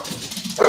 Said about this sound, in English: And that's my dog, so I apologize for that.